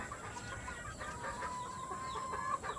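Backyard-farm chickens, five hens penned together, cluck softly and continuously with faint bird calls over a steady outdoor hiss.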